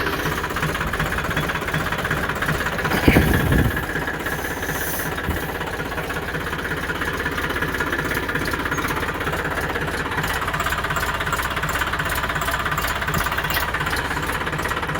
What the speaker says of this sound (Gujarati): મસ્ત મજાનું ટ્રેક્ટર ચાલુ.